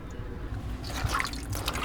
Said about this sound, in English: I drained some of the water out